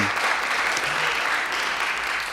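Stand-up comedy club audience applauding steadily and loudly throughout, a dense wash of clapping with no talk over it.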